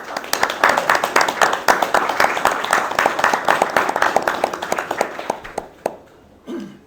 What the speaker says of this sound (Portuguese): Peço-vos uma salva de palmas pelo seu percurso.